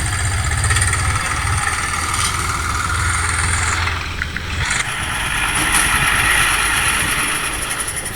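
A tractor engine idles and runs steadily at a road construction site in Amaravati where laborers work alongside JCB excavators, a continuous close mechanical drone with a brief dip in level midway, no talk.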